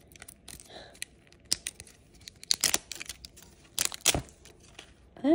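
Zippered plastic packaging of an LOL Surprise doll is tugged and torn open in short crinkly rips and snaps, fairly close and quiet, with sparse talk.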